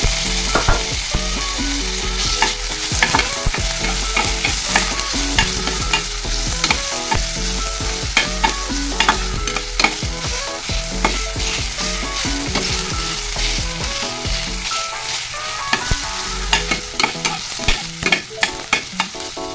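Garlic, onion and tomato sauté loudly in a pan for a ground pork menudo, with constant close sizzling and frequent scraping, stirring knocks throughout and no voices.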